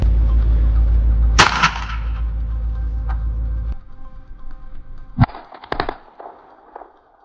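A modified toy gun loaded with a homemade round goes off in one sharp, loud crack over a low hum, followed by scattered clattering pops and knocks close by.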